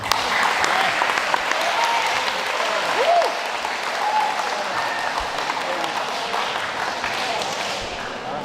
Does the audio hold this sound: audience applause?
yes